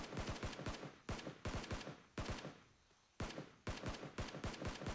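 Automatic gunfire during a fight in the mobile battle-royale game PUBG Mobile: rapid, loud bursts of repeated shots, broken by brief pauses, with no talk over them.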